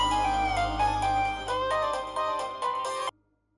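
A mobile phone rings with an incoming call in a TV serial, a loud melodic electronic ringtone with a steady low hum beneath, playing several bars before cutting off abruptly into near silence.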